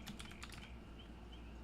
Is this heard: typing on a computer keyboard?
yes